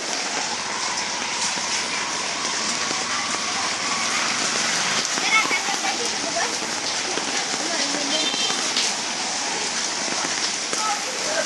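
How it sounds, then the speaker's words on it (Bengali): Steady, dense rain pours down on a market throughout, a continuous broadband hiss of drops hitting surfaces nearby, with faint background activity beneath. "প্রচুর বৃষ্টি হইতেছে বাজার"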